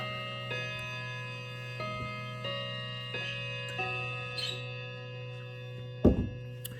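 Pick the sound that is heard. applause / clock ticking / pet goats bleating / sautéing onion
clock ticking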